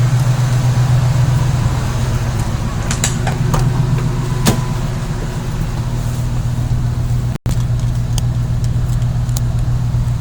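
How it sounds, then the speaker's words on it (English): A 2000 Ford F150 engine idles after a remote start, a steady low hum with a few light clicks and ticks, and one brief cutout near the end. "Lights will come on, vehicle will crank, start, and run for 20 minutes."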